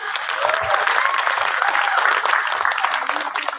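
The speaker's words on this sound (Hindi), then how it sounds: "एक बार फिर से जोरदार तालियां" Loud, dense applause fills a hall at a company's first anniversary awards event, many hands clapping steadily with some crowd voices underneath.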